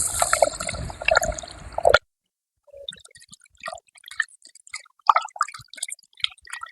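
Foxtail millet rice is rinsed in water, with soft splashing and swishing at first, then a pause, followed by scattered drips, squishes and small liquid sounds.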